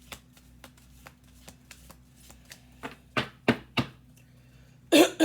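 Playing cards shuffled nearby: soft scattered taps and clicks, then several louder riffling bursts in quick succession, ending in a sharp close riffle.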